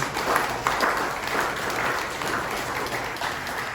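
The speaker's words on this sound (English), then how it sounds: "Let's give our candidates a big round of applause." An audience at a Lake Helen mayoral candidates forum claps steadily for the candidates, a moderate, sustained round of applause from a room of people.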